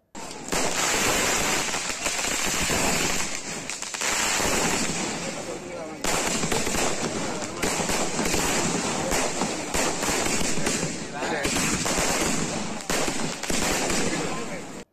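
Strings of firecrackers going off at a thousand-year-old Shiva temple in a village near Pattukkottai, a dense crackling barrage of rapid loud pops lasting several seconds at a time with brief pauses between bursts.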